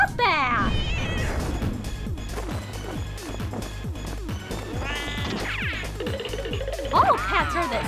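A cat meows loudly and repeatedly, with drawn-out, caterwauling cries scattered across the clip, along with a few knocks and bangs and people talking nearby.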